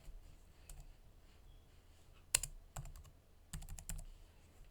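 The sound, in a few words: typing code on a computer keyboard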